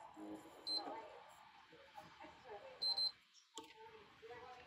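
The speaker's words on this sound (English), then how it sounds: "until you hear a double beep sound" A PlayStation 3 console gives a quick pair of high electronic beeps on power-up, bright and fairly clear against a muffled, murmuring background.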